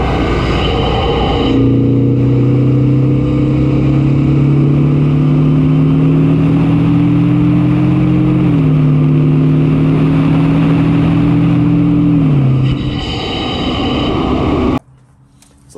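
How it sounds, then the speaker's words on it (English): Honda Accord 2.0T turbo engine with the stock intake, heard from inside while driving: a loud, steady engine drone that rises slowly in pitch, dips as the car shifts gear, keeps climbing, then fades away. "take this car for a drive so you guys can hear what the stock intake sounds like"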